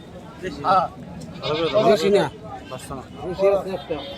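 Goats bleat repeatedly in short wavering calls amid a busy crowd at a goat market, with people chattering in the background.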